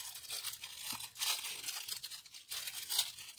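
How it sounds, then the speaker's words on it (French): Paper tearing close by while a small parcel is unpacked, several short ripping bursts with crinkling between them, loudest near the middle and end. "ah mince, ça je déchire."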